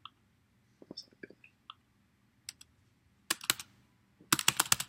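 Brief bursts of computer keyboard typing come up close, with a few light clicks and faint whispery sounds between them, then a denser run of keystrokes at the end.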